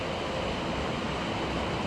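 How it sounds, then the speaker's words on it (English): Water gushing beneath a large lifting gate at a riverside picnic site in Coleraine, a steady broadband rush that fills the whole clip at close range, with no voices over it. "There's a water gush underneath there."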